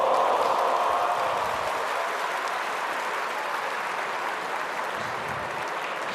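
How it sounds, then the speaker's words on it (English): A large snooker crowd in Wuhan applauds steadily after a cross double, a dense even patter of clapping that starts strongest and stays sustained throughout, with no voices above it. "Gasps of wonder from this big Wuhan crowd as Trump executes the cross double"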